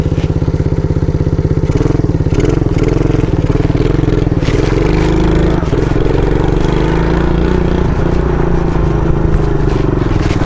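A 50cc scooter engine drones loud and steady through a wheelie run, its pitch wavering as the throttle is worked, with a scraping rasp near the ground.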